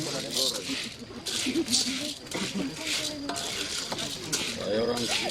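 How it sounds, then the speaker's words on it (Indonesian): Coffee beans being roasted by hand in a traditional Manggarai pan called a kebo, with steady scraping, stirring and rattling of beans against the pan, heard closely under ongoing talk. "Nah, kopinya digoreng. Sangrai."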